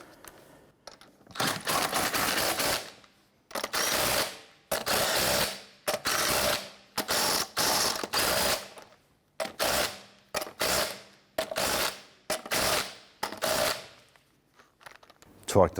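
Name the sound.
tightening Jeep Grand Cherokee wheel lug nuts with a wrench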